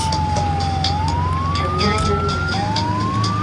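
A thin wailing siren rises and falls slowly over a steady low hum, sounding small and close rather than like a real vehicle.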